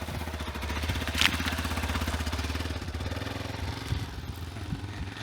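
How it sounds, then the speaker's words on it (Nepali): A motorbike engine running as the bike is taken out, a steady rhythmic mid-pitched putter close by, with a brief clatter early on and no speech. "जसले बाइक निकाल्दैछ।"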